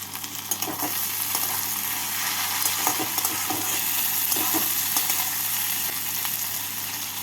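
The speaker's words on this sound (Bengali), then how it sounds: "টমেটো দিয়ে পেঁয়াজের সাথে নাড়াচাড়া করে নেব" Chopped tomatoes and onions frying in a pan for mutton keema ghugni, a loud steady sizzle with scraping stirring strokes throughout, close and without talk.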